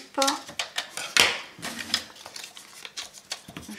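Paper or cardboard being cut for a handmade scrapbook album box, with sharp, irregular snips and clicks close to the mic in quick bursts.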